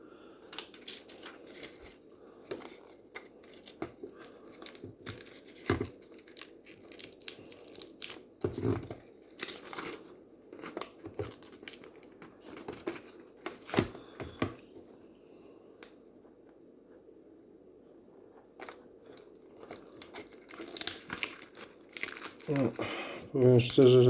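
Protective foil being peeled off a BASF tape, a series of close, irregular crinkling and tearing crackles separated by quiet pauses, louder toward the end.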